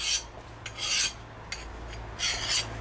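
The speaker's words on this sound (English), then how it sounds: "now the file does sort of catch ever so slightly" A file rasps across the edge of a tempered steel knife blade in four separate close strokes, each a harsh scrape with short pauses between.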